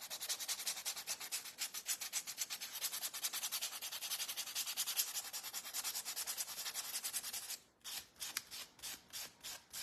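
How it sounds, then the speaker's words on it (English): Steady rapid sanding strokes rub across a painted craft piece, a patriotic highland cow insert, loud and continuous, then slow to a few separate rhythmic rubs near the end, with no talk. "this should be good to sand now"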